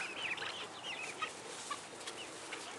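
Chickens cluck and chatter on a farm, a steady stream of short calls at moderate distance with a few sharper clucks standing out, and no one speaking.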